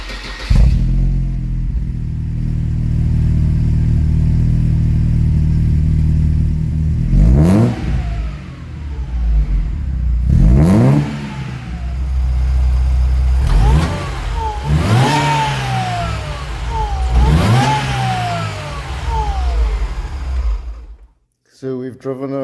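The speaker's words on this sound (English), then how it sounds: "So let's hear another cold start." A 1999 Mercedes SLK 230 Kompressor engine cranks on a cold start, settling into a loud idle, then revs sharply several times in quick bursts before cutting off abruptly near the end.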